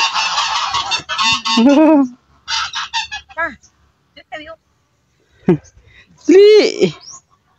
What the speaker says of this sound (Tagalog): Hoy, duck. Duck.